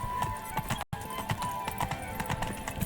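Horse trotting in The Witcher 3, a brisk run of clip-clopping hoofbeats with a faint whinny, interrupted by a momentary dropout, close and moderately loud.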